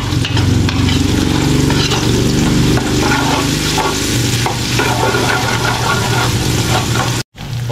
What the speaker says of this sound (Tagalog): Ayan, sinasabay ko na po yung bawang sibuyas.